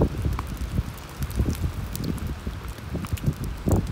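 Gusty wind of 20 to 35 mph on a mountain trail buffets the microphone in uneven low rumbling bursts, loud and close, with no speech.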